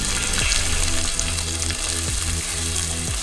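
Chopped onion fries in hot oil for a Kerala-style tempering, giving a steady, close sizzle with faint low rhythmic clatter from stirring or the pan beneath it.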